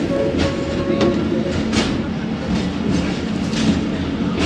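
Khyber Mail passenger train pulling out of Pattoki railway station in cold, foggy Punjab weather, a steady loud rolling rumble of the carriages with faint rhythmic clatter throughout.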